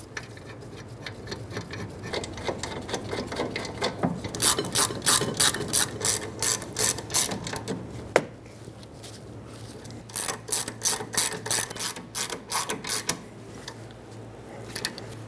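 A ratchet wrench tightens brake caliper bolts on a Nissan Altima, with two bursts of loud, close, rapid clicking separated by a short pause and a sharp knock.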